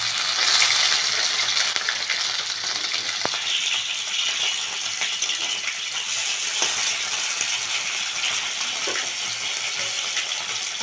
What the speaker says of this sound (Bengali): তেলটা পুরো ছিটাচ্ছে চারিদিকে।